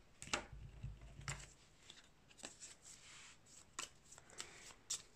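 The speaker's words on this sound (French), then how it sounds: "Alors on va remélanger ça, parce que là on voit que j'ai plus assez de cartes" A deck of playing cards being shuffled during a tabletop game of Way of the Samurai: Blood & Bushido, heard as several close, crisp riffle bursts with quiet gaps between them.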